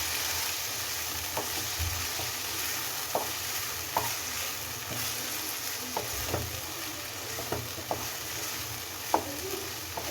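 Pasta with oregano herbs, chili flakes and soy sauce is stirred in a pan, with soft sizzling underneath and a scatter of light scraping clicks from the spoon at irregular intervals, close and fairly quiet.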